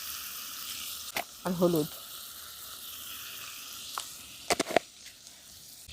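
Tomatoes frying in a pan with salt and turmeric give a steady, soft sizzle throughout, broken by a few sharp clinks of stirring and a brief voice speaking over it.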